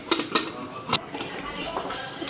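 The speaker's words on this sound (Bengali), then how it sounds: "প্রেসার কুকারের ঢাকনাটা লাগাই দিই" A metal pressure cooker lid clanking as it is set on the pot, several short bright metallic clicks and knocks close by, then quieter handling noises.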